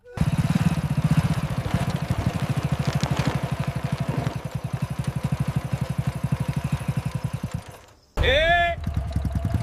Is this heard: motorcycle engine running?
yes